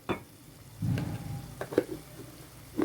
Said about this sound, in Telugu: అందుకోసమనే నేను ఎక్కువగా మెంతికూరని లైట్గా వేయించేసుకుంటాను.